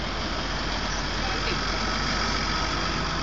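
A New Holland TM 190 tractor of 230 horsepower, hitched to a Ravizza three-axle trailer, runs its engine under heavy load, a loud, constant, close-up drone with no pauses.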